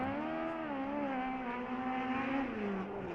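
A USAC midget race car at Belleville screams around on a qualifying lap, a loud, high-revving engine whine holding steady with slight pitch dips and rises through the corner.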